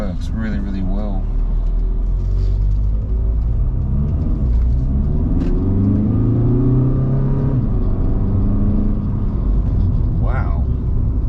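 A 2008 VW Golf TDI builds speed with a steady, loud engine drone and rising tone, close and continuous, while someone talks over it for much of the run.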